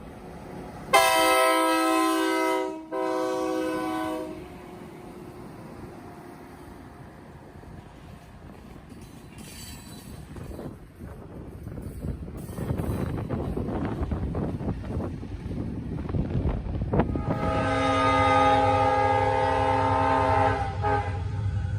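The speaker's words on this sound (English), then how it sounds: "we see an interesting piece of maintenance of way equipment heading south off the Frankfurt with an ear-piercing horn" A maintenance-of-way equipment train heading south off the Frankfurt line blasts a loud, ear-piercing horn, then rumbles and clatters past nearby with wind buffeting the microphone before sounding another long, piercing horn blast.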